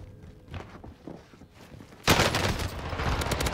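Rapid automatic fire from a Welgun rings out in a Call of Duty: Warzone match. Faint shuffling sounds come first, then a loud, sustained burst of gunfire erupts and carries on to the end, with no talking.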